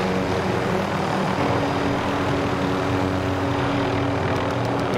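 Steady, loud rotor and engine drone of a helicopter in Call of Duty: Warzone holds throughout, a continuous mechanical roar with a low pulsing thrum and no voices.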